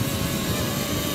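Steady whirring propeller hum of a DJI FPV drone taking off close by, a dense buzzing roar holding constant over a brief stretch with no talk.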